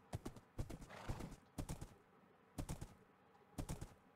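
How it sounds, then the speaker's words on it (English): Horse hooves clip-clop in Minecraft, arriving in four quick clusters of sharp, close, fairly quiet hoof taps spaced about a second apart, with a faint whinny-like tone mixed in. "I have a horse now."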